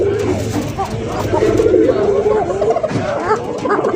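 Pigeons of fancy racer and giribaz breeds coo in a pigeon sale setting, a steady nearby cooing that runs through the whole stretch with voices talking over it.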